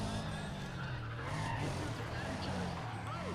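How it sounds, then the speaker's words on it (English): A car drifts in the racing game Need for Speed ProStreet, its tires squealing in long wavering screeches over a steady, close engine drone that stays loud throughout. "Drifting."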